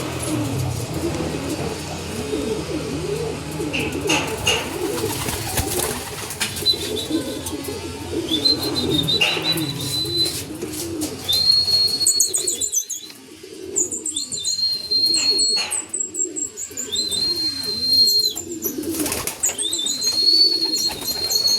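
Racing pigeons returning from a derby in Gumaca, Quezon settle at the loft, with repeated soft cooing, bursts of wing flapping and scattered chirps from nearby birds, and occasional voices in the background.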